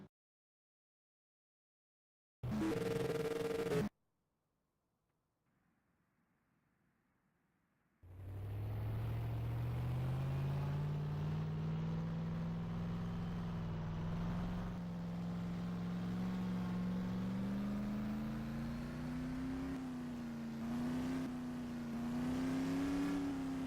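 A brief burst of sound gives way to silence, then a race car engine roars up and holds a loud, steady drone for a lap at a time trial, its pitch slowly climbing and wavering.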